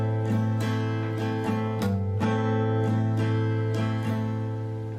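A guitar plays a quick melodic line of single plucked notes from a song, each attack sharp and ringing, moving steadily with one slightly longer pause midway.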